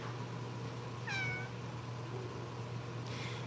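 Cats meow at ground level in a home for rescued cats, one clear rising meow near the middle and a fainter one near the end, over a steady low electrical hum.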